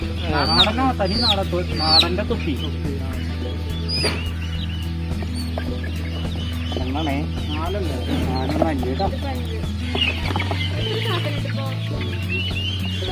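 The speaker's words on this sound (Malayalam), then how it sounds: "നാടൻ കോഴികൾ നമ്മളൊരു പത്തെണ്ണം എടുത്തിട്ടുണ്ട്" Native chickens at a Wednesday pets market near a Mannuthy hatchery cluck and crow repeatedly up close, with a busy crowd murmuring and people talking throughout.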